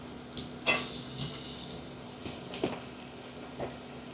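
Poha tempering stir-fried in a pan, a soft steady sizzle broken by a sharp clink of utensil on metal near the start and a few lighter scrapes and taps afterward, no talking.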